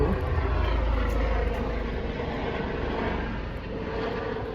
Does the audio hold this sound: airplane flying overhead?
yes